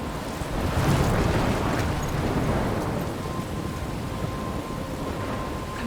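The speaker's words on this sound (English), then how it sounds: "I'm trapped in a storm?" Stormy seaside weather in the Life Is Strange video game: steady roaring wind and crashing surf fill the whole stretch, swelling loudest early on then holding as a constant dense rush, with a faint thin tone entering midway.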